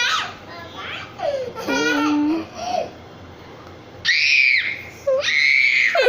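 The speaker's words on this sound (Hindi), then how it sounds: "अल्लाह कितनी इसकी चीखें हैं।" A young child screams in loud, shrill bursts, with two long piercing shrieks near the end, mixed with babbling and brief cries while an adult voice speaks nearby.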